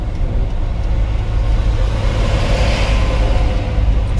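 A truck rumbles past on the road, its steady low engine and tire roar swelling slightly midway, heard from inside a moving vehicle.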